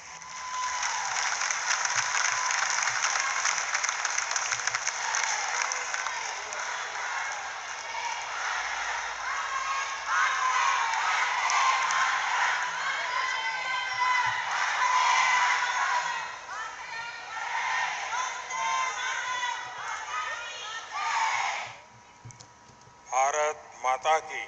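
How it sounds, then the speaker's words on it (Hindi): A large crowd at a political rally applauds and cheers continuously for about twenty seconds, with shouts rising above the clapping before it tapers off abruptly. "आइए जोरदार तालियों के साथ आपके संबोधन के लिए।"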